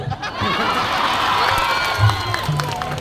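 A festival crowd in a packed town square bursts into applause mixed with cheering and whoops, a dense continuous wash of clapping that swells briefly near the end.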